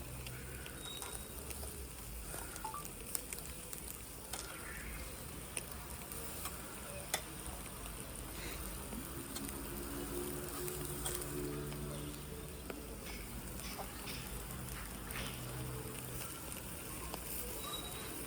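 Chicken pieces sizzle on a barbecue grill as they are turned, a steady low hiss with scattered faint ticks and clicks throughout, fairly quiet and constant.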